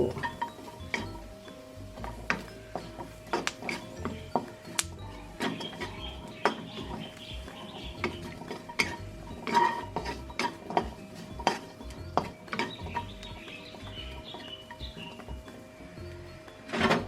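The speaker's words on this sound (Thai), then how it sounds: "หอมกับกระเทียมนี่ก็คั่วต่อไปสักครู่" Shallots and garlic being dry-roasted in a pan for a Thai chili dip, heard as a long run of scattered close clinks and scrapes of a utensil against metal, irregular and fairly faint with no talk.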